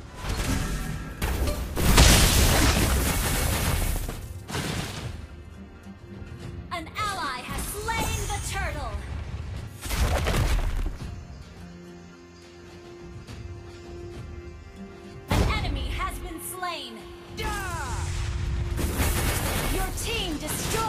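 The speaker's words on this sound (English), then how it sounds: "Your team destroyed a turret." Explosive bursts and booms from a turret being destroyed in Mobile Legends: Bang Bang, mixed with game voice announcements, whooshing effects and other battle sounds, loud and repeated across the clip.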